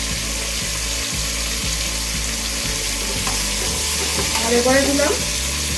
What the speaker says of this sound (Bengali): এই দিয়ে নাড়তে চাড়তে থাকবে